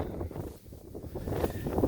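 Outdoor wind gusts buffet the microphone on a farm with sheep, giving low, rumbling, uneven whooshes that dip briefly and then swell again, close and loud, with no talking.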